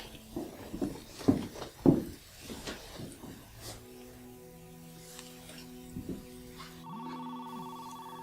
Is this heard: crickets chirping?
no